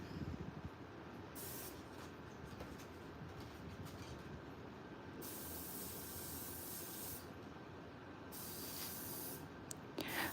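Steady airbrush hiss as paint is sprayed onto a stencil to depict realistic teeth and lips, a continuous soft broadband spray holding through the whole stretch with small dips and swells, close and alone, with no talking.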